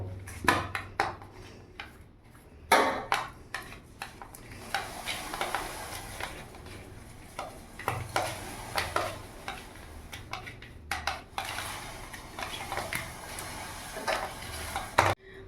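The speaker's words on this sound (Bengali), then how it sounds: "রুই মাছে আমি ভালো নুন, হলুদ আর একটু লঙ্কা গুঁড়ো নিয়ে ভালো করে মাছটা মাখিয়ে নেবো" Pieces of rohu fish being worked by hand in a bowl with salt, turmeric and chilli powder: close, wet squelching and soft knocks against the bowl in irregular bursts, with no talking.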